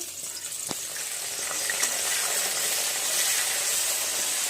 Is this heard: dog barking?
no